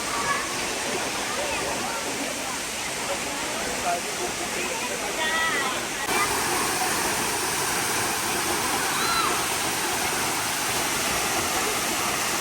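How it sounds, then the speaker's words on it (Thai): A waterfall, Tam Nang Falls in Si Phang Nga National Park, drops from a high cliff and makes a steady, loud, broadband roar throughout, with faint voices now and then beneath it. "ตอนนี้ผมก็มาอยู่ใกล้ ๆกับน้ำตกแล้วนะครับ ตกมาจากหน้าผาสูงเลยนะครับ"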